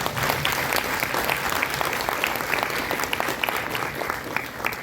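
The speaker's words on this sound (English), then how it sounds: "Give a round of applause to all the" An audience at a World TB Day awareness event at a medical institute applauds the winners, dense continuous clapping filling the room at steady strength without a break.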